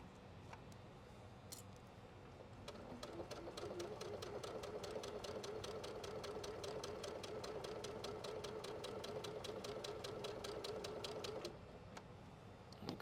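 A sewing machine set to a 1.8 stitch length runs steadily for several seconds, its fast even needle rattle stitching quilt pieces along a line, starting and stopping cleanly with no talking.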